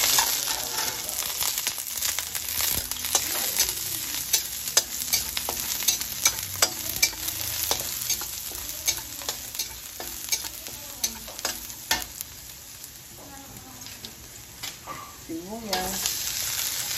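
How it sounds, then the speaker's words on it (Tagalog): Garlic sautéing in hot oil in a pan for ginisang upo with sardines, a dense continuous sizzle with frequent sharp clinks and scrapes of a spatula stirring, close and loud throughout. "Lagyan natin yung ating bawang."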